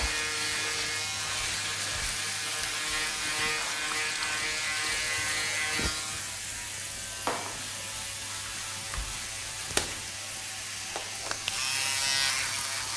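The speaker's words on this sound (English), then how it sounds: "Shaving in both sides because I'm worried it's going to go in my mouth, the hair." Electric shaver buzzing steadily and loudly up close, with occasional clicks and bumps as it moves over the face.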